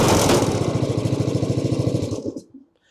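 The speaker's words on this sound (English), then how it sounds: "The machine starts easily using the throttle, which you push to the on position, turn the switch on and pull the starter cord" The petrol engine of a Westermann WKB330 weed ripper chugs loudly up close in a fast, even putter, then abruptly cuts out into silence.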